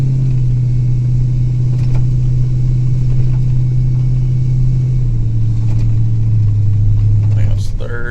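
A 1992 Ford F250 with a 5.8 liter Windsor engine revs under load, a loud steady low drone from inside the cab with a shift in pitch as the E4OD transmission changes gear, and a voice talking over it.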